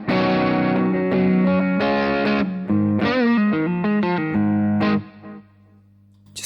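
An electric guitar plays through a Little Green Wonder overdrive pedal, strummed chords and short riffs with warm, moderately driven tone, loud and close, then ringing out and fading near the end.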